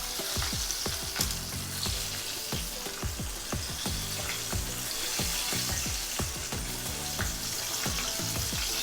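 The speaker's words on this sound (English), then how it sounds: "if you hear sizzling sound, it means that the chicken is being cooked on the inside" Chicken cutlets fry in a hot pan with a steady, close sizzle full of quick popping crackles.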